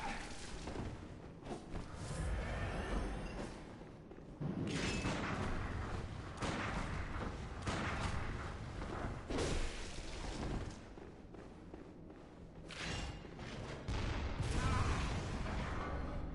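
Repeated booming cannon shots and bursts ring out in the video game Bloodborne, loud irregular blasts spread across the clip amid combat noise.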